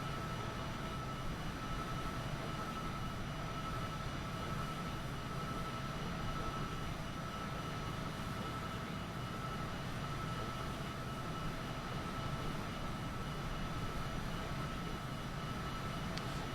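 Steady engine drone of an airplane in a flight video game, overspeeding at close to 500 knots, a continuous, even rumble at moderate level with no talk.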